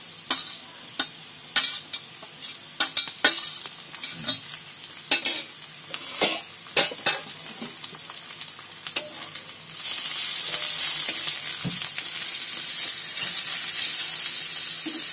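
Chopped tomato and grated coconut fry in a hot pan for an egg vegetable dish, with sharp stirring scrapes and clicks up front, then a loud steady sizzle swelling in and hissing on alone.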